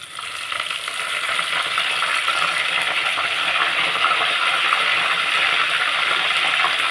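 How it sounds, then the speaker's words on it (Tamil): Curry leaves frying in hot oil for a Tamil prawn kulambu, a steady close-up sizzle and crackle that swells in the first second and then holds loud and even, with no voices. "நம்ம வந்து கருவேப்பிலை சேர்த்துக்கலாம்"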